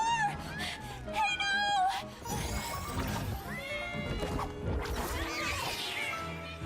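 A cat meows in the video game Honor of Kings amid game music and other character sounds, the cries rising and falling in quick tonal bursts over a busy, loud mix with some crashing effects.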